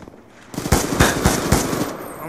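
Rapid automatic gunfire from a Black Ops 2 Gun Game match, a burst of loud, closely spaced shots running for about two seconds after a brief quiet start.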